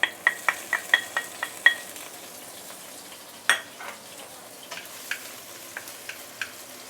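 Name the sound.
sautéing fresh herbs in hot oil for curry paste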